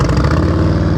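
Motorcycle engine held at low throttle during slow-speed practice riding, a steady loud mid-pitched idle-like chug with rough, shaking pulsing throughout, no talk.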